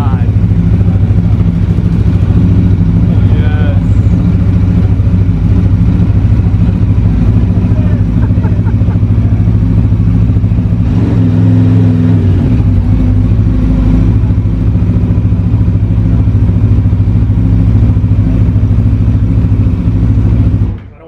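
A 2020 Aprilia RSV4 X motorcycle runs at close range with a loud, sustained rumbling engine note and some revving, while people talk over it throughout.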